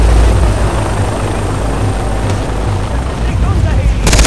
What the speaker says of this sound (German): Kämpfen gegen den Heli.